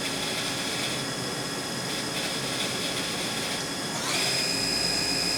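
Takisawa MAC-410V vertical machining center from 1993 with its spindle running at 2,000 RPM, a steady loud broadband whine with high tonal lines that rises in pitch and strength near the end, no talk.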